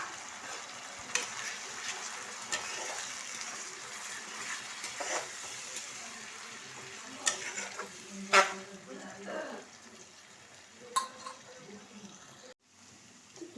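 Onion, ginger and garlic paste frying in hot oil after a bay leaf and onions, a quiet continuous sizzle with a few sharper spoon knocks and spatters, a voice occasionally faintly present.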